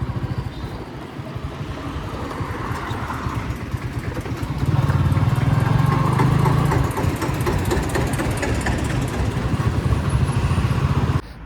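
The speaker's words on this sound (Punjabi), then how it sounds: "ਮੋਟਰਸਾਈਕਲ ਚਲਾਉਣਾ ਹੁਣ ਹੋ ਰਹੀ ਹੈ" A motorcycle being ridden, its engine droning steadily and growing louder midway as it revs, with a rough low hum continuing to the end and no talk.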